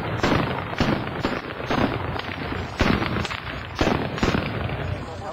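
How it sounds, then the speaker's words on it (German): Ceremonial Böller salute shots fired at a German federal election campaign event, heard as sharp booming cracks that stand out from the constant crowd noise and chatter, with voices mixed in throughout. "Wir werden 2 Böllerschüsse machen, die sollen für Sie auch symbolisch ein Auftakt sein für eine gute Bundestagswahl."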